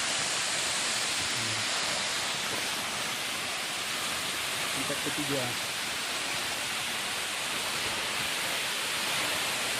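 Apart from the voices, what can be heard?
Lae Singgabit waterfall, third tier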